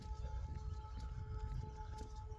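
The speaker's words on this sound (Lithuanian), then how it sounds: "Iš kur čia tos sirenos" Sirens wailing outside, heard as a faint, distant, steady tone held throughout against a low rumbling background.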